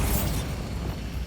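Bombarda spell blast in Hogwarts Legacy, a loud rumbling burst with a bright crackling onset that decays into a lingering low roar over about a second.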